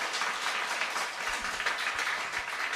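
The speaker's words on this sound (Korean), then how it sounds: "뜨겁게 말씀해 주신 형철 팬에게 큰 박수 부탁드리겠습니다" Steady, even applause from a congregation at a special lecture gathering continues without a break, moderately loud, with no voices over it.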